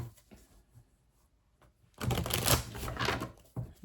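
An oracle card deck being shuffled by hand: a few soft riffles at first, then a loud, dense run of fluttering card shuffling lasting about a second and a half, with a brief final flick.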